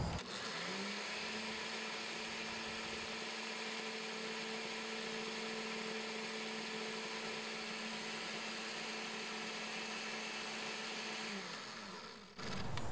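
A blender whirs steadily at high speed for over ten seconds, mixing a mustard-maple glaze, then spins down and stops near the end. The motor is loud and close, with no talking.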